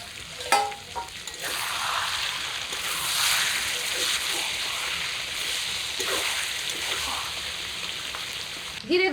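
Roasted cumin and coriander seeds are ground with water on a stone grinding slab, a continuous wet, gritty scraping at close range, with a voice heard only briefly near the start and end.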